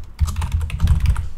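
Rapid typing on a computer keyboard, a quick run of close, crisp key clicks and thumps lasting just over a second with no talking.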